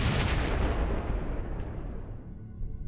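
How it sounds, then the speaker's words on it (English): Explosions rumble close by in the survival game Cataclysm DDA, a dense, continuous low booming roar that is loud at first and gradually tapers off, with a brief sharper burst near the end. "So, a lot of explosions nearby."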